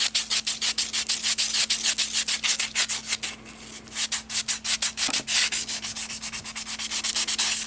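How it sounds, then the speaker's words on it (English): A Ford 390 rocker shaft being polished by hand with 320 grit emery cloth, a fast, steady run of rasping back-and-forth strokes, close and loud, with a brief pause midway and no talking. "take some emery cloth to it and start polishing it."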